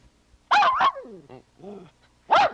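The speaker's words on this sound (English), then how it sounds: "we've been visited in the balcony by Spot the Wonder Dog once again" A dog on a 1979 television review show's balcony set barks twice sharply up close, lets out a falling whine and soft whimpers, then barks once more.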